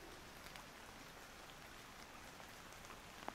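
Steady rain falls over a riverside hiking trail along the Semois, a continuous soft hiss of drops that stays even and fairly quiet throughout, with a sharp tap right at the end.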